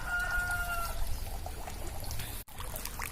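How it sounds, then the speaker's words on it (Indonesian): Water trickles gently and steadily into a pond raising young tilapia, a soft continuous pouring wash with a faint bird call near the start. "air yang masuk ke dalam kolam itu nggak terlalu kencang, nggak terlalu deras ya, cuma gemercik aja ini ya"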